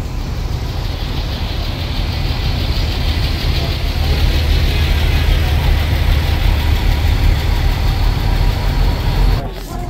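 Buses idle in a total traffic jam in Makkah, a steady loud engine rumble that holds unbroken and close for the whole stretch, with a brief disturbance right at the end.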